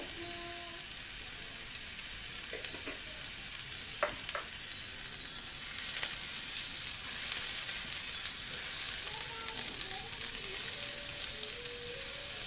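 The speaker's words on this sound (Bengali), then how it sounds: "পেঁয়াজটাকে খুব ভালো করে নরম করে ভাজা ভাজা করে নিব" Onion frying soft in a pan for garlic bharta with black cumin makes a soft, constant high sizzle with a few faint clicks and taps of the spoon.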